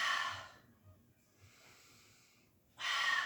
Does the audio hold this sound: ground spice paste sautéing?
no